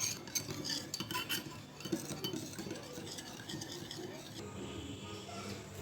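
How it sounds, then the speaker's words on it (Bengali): Yogurt being whisked round and round in a bowl for Bengali misti doi, soft scraping and light clinks of a spoon against the bowl in an uneven rhythm, with a voice talking over it. "এই জন্য চেষ্টা করবেন খুব সুন্দরভাবে এইভাবে ঘুরিয়ে ঘুরিয়ে দইটাকে ফেটিয়ে নেওয়ার।"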